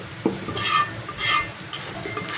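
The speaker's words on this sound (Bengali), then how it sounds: "লবণটা দিলে পেঁয়াজটা তাড়াতাড়ি ভাজা হয়ে যায়" Onions sizzle in a pan with salt while a spoon stirs them in short scraping strokes, the steady frying hiss rising with each stir, close and clear.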